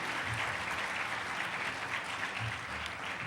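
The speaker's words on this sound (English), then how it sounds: "Give him an applause." A lecture audience applauds a keynote speaker with dense, steady clapping that continues evenly at moderate volume throughout, with no speech over it.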